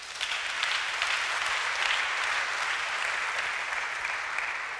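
A church congregation at a Sunday service breaks into sustained applause, a dense, even wash of clapping from many hands that holds steady throughout.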